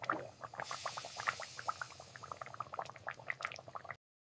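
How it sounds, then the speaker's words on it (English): Pasta bubbles in boiling water while a wooden spoon stirs, soft irregular pops and gurgles up close, with a brief swish of movement early on. "I stir the pasta with a wooden spoon."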